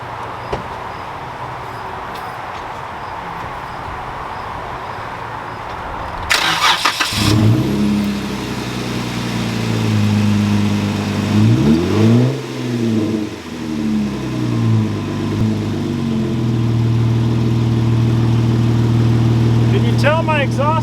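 A car engine cranks and catches, then runs with a rough, uneven rumble through a broken exhaust, rising in a few revs over a steady idle, fairly close and loud, with a person's voice briefly in the background.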